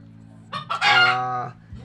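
A labuyo rooster, a red junglefowl kept for hunting season, gives a single short crow close by, rising sharply then holding a bright tone for under a second before cutting off.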